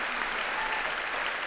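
Applause from a squash crowd at the AJ Bell British Squash Grand Prix 2014 semi-final, a steady, dense clapping that holds at an even level throughout with no voices over it.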